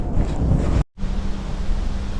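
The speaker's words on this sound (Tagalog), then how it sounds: "Dahil sobrang lakas ng hangin." Strong wind buffets the microphone on a fishing boat at sea, a loud, steady roar broken by one brief dropout, with waves under it.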